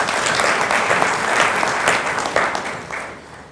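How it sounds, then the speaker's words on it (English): Audience applause at a gala dinner, a dense crowd of clapping hands, loud and sustained at first and then gradually tapering off. "And I think it deserves another big round of applause."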